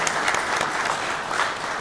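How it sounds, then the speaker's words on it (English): An audience claps at a live-streamed institute event, with brief steady dense applause at moderate level and no voices over it. "Round of applause for that."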